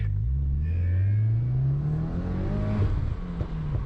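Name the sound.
2020 Subaru WRX engine accelerating on autocross lap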